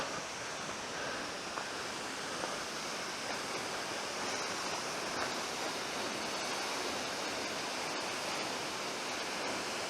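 A waterfall in the Fratarica gorge roars as a dense, steady rush of falling water, loud and close, filling the whole scene without pause or voices.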